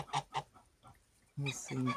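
Domestic geese on a small farm, several short honks and clucks from the birds close by, followed by louder, harsher calls overlapping toward the end.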